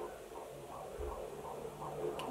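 Womb sounds from a baby soother toy: a soft, steady low whooshing hum with a gentle rhythmic throb pulsing underneath, continuous and fairly quiet, with no voices.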